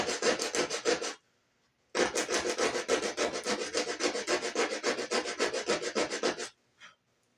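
Sandpaper is worked back and forth over a wooden dowel in fast, even rasping strokes. There is a short pause after the first second, then a longer steady run of close, loud strokes, with no talking.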